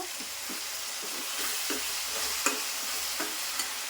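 Tomatoes frying in a pan for sambar, being stirred and smashed, with a steady soft sizzle and a series of light scraping knocks from a spoon against the pan.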